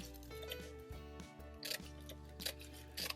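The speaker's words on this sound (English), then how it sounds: "so I just use my scissors" Scissors snip through deco mesh in a few quick, quiet cuts close by, with a soft crinkle of the mesh between the strokes.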